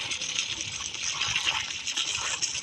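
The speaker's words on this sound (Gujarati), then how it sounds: "મિત્રો જો આમાંથી પાણી છલવું ચાલુ થઈ ગયું" Water gushes and splashes steadily out of a full water tank, a continuous bright rushing spray heard close up with no voices.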